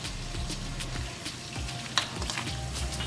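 Chicken pieces being pressed and hand-mixed with a masala and ginger-garlic paste for chicken pakodi, giving a close, steady run of wet squelching and sticky rubbing, with no talking.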